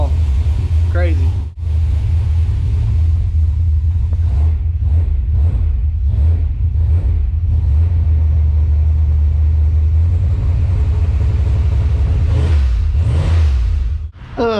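A car engine runs steadily in a garage with a deep, continuous rumble and a few slight revs, loud and close, while someone speaks intermittently over it.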